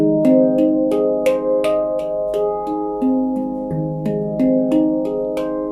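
Shimmering metallic tones of an extended-scale handpan play a slow progression of layered notes, each chord ringing and overlapping the last, with no voices.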